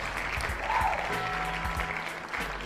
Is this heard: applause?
yes